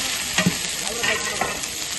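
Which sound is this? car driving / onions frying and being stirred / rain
onions frying and being stirred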